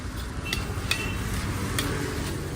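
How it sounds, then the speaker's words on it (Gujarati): Masala being stirred and fried with mung bean pulao at a Gujarati street food stall: a steady, close sizzle with a scraping stir running throughout and a few light metallic clicks of a utensil against the pan. "હવે પ્રોપર તરીકે એને સાતળી લઈએ, મિક્સ કરી લઈશું, પ્રોપર તરીકે હલાવી લઈશું આપણે।"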